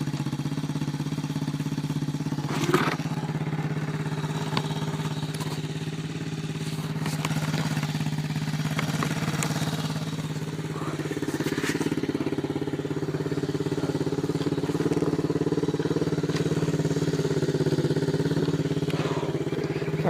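A dirt bike engine idling steadily with a low, even hum, a few clicks and clatters over it, recorded close from a helmet camera, with a slight rise in revs midway.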